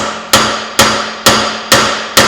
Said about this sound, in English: hammer on a socket